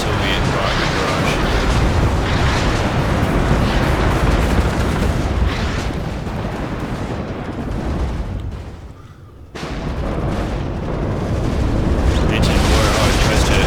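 Rocket barrage explosions from the Warno real-time strategy game: a dense, continuous rumble of booms and blasts that dips briefly near the end before surging back loud, with speech also detected.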